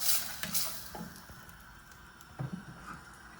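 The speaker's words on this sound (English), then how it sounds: "Mix that all together and get it hot." Meat sauce sizzles hot in a pan while being stirred, a steady frying crackle with a few scraping stir sounds and soft clinks, close and moderately quiet, no voices.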